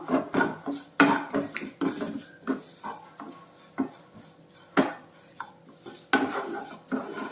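A utensil spreading a spiced kovakka (ivy gourd) mixture across a pan, with repeated scraping strokes and sharp metallic knocks against the pan in an uneven rhythm, close up and without talk.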